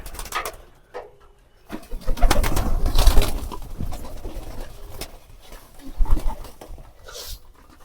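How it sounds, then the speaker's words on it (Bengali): Pigeons coo while being given their morning feed, with a dog panting and shuffling close by and scattered knocks and rustles of feeding, all fairly loud and without speech. "আর এখন আমি কবুতরগুলোকে খাবার দিয়ে দেবো সকালের"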